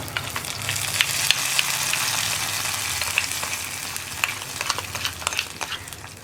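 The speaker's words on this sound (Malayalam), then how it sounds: "ഞാനിനി വറവ് കറിയിലേക്ക് ചേർത്ത് കൊടുക്കുകയാണ്." A hot tempering of fried onions is poured into a pumpkin curry, producing a strong, steady sizzle dotted with sharp pops and crackles that swell and then settle.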